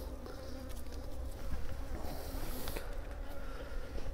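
Dense, steady hum of many young honeybees buzzing in an open beehive, close and continuous with no talking.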